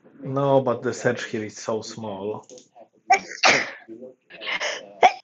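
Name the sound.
sneeze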